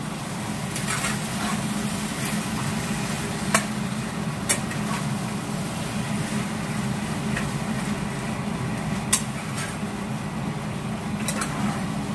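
Chicken pieces being sautéed in a pan for homemade chicken chaap give a steady, moderately loud sizzle that runs throughout, with a few sharp clicks and scrapes of stirring over a constant low background hum.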